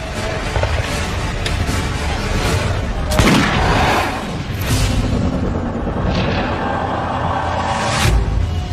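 Gunpowder weapons firing in a dense, noisy barrage, with heavy booming blasts standing out around the middle and near the end.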